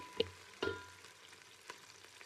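Biryani masala with coriander, mint and kasuri methi frying in a pan for white chicken biryani, a soft sizzle marked by two sharp utensil clanks and a lighter stir, close by and without talk.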